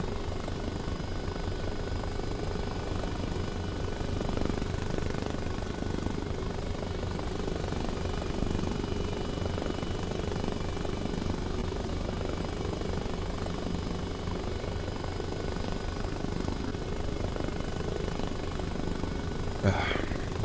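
A helicopter's rotor and engine drone steadily and evenly throughout in the military game Arma Reforger, heard from inside the cockpit with no other sounds rising above it.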